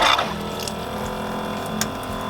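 Water runs steadily through a funnel into a camper kitchen sink on a 4-wheel camper, a continuous close rushing trickle with a slight splash at the start.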